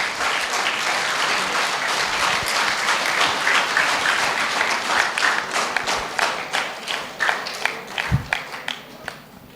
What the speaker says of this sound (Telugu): అందరం చప్పట్లతో వారికి ధన్యవాదాలు తెలియజేస్తాం.